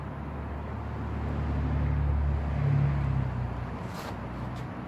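A VW heating and ventilation box blower fan motor running at low speed gives a steady, moderate motor whir with a low tonal hum. The sound stays even and continuous throughout, with no voices.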